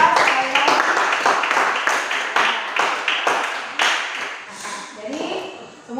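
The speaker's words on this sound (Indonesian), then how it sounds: "Berikan tepuk tangan dulu untuk kelompok 1 dan kelompok 2" A classroom of students claps in short, uneven bursts for two student groups, the rhythmic hand claps fairly close and moderately loud, with a teacher's voice talking over parts of it.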